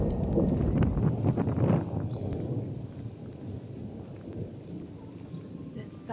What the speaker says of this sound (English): The thunder is on the way.